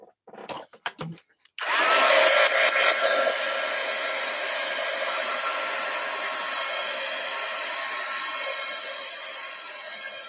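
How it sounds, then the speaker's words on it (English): Heat gun switched on after a few quiet clicks and handling noises, then a steady, close, loud blowing whoosh with a fan whine that runs on alone to the end. "So I'm going to do a little heat gun alert here. Heat gun alert."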